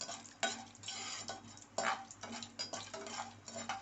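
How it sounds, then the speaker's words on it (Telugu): Spices sizzle and crackle as tempering fries in a pan for a drumstick milk curry, with uneven bursts of spitting and stirring scrapes at close range. "ఒక దాని మీద తాలింపు పెడుతున్నాను"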